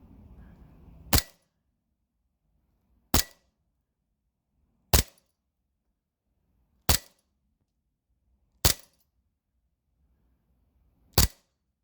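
A VFC HK45 airsoft pistol firing 0.2 gram BBs on green gas in freezing cold pops out six sharp, crisp shots spaced about two seconds apart, each a short snap in near silence.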